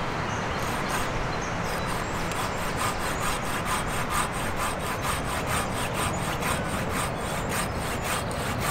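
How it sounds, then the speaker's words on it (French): A precision hand saw cuts through wood outdoors in a steady, unhurried rhythm of rasping strokes, close and clear, roughly two strokes per second. "je vais pas forcer sur la scie, parce que le but du jeu c'est pas de débiter un gros volume de bois rapidement,"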